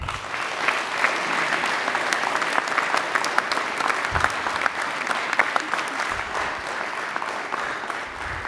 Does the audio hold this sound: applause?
yes